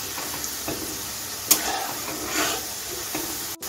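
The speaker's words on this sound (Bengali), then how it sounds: "আলুটা দিয়ে প্রথমে 2 থেকে 3 সেকেন্ড গ্যাসটা হাইতে রেখে তারপরে মিডিয়ামে রেখে ভাজতে হবে।" Potatoes deep-frying in plenty of oil over a gas flame give a soft, steady sizzle and hiss, broken by a few faint clinks and stirring noises.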